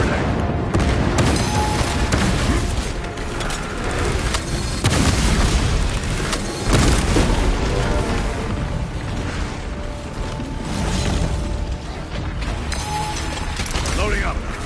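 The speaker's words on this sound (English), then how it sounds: "Deploy frag grenade!" Frag grenade blasts in Warhammer 40,000: Space Marine 2 boom through dense, loud combat, with deep repeated detonations layered over constant mechanical clatter and battle noise, and voices heard amid the din.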